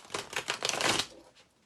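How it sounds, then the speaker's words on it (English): A deck of cards being riffle-shuffled up close, a quick burst of rapid flicking that rises and then fades out. "Okay, one more shuffle, Inez"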